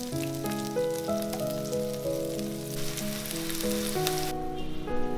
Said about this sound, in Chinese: 盖上锅盖焖2分钟